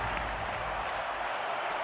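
Crowd applause in a London 2012 Olympics video game, a dense, continuous wash of clapping and cheering filling the brief moment at steady loudness.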